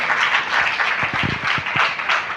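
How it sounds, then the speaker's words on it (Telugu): A church congregation breaks into applause, a brief steady wash of many hands clapping through a hall, with a few sharper claps standing out. "చప్పట్లు కూడా దేవుని మహింపరుస్తున్నాను"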